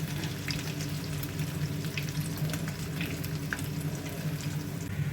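Potato pancakes (deruny) frying in a pan give off a steady, dense crackle and sizzle with small pops throughout, close and even with no voices.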